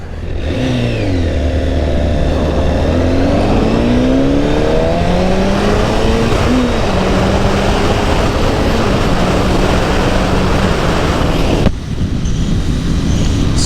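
A motorcycle accelerating hard off the line, its engine loud and close, rising in pitch through several quick gear changes before settling into a steady roar.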